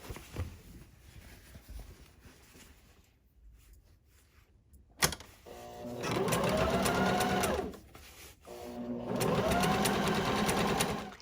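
A sewing machine topstitches a hobo tote bag in two loud, steady runs of whirring stitches, separated by a short pause and a sharp click, after a quiet stretch of room noise.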